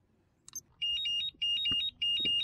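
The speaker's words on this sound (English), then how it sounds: "So there is an alarm sounding, which means somebody is fully charged." A GT Power X4 Mini quad charger signals a full charge with three bursts of rapid high-pitched electronic beeps, evenly spaced and close, with a faint click and thump between them.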